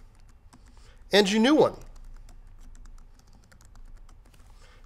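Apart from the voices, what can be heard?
typing a password on a computer keyboard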